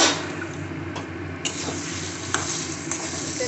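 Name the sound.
lentil paste poured into a hot pan for dhokar dalna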